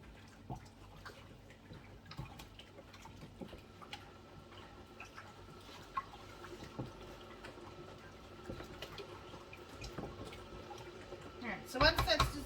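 Sugar being stirred into hot water in a container to make homemade cordial: faint, irregular clinks and ticks of stirring with soft liquid swirling, quiet and close, plus a brief louder clatter near the end, with low voices in the background.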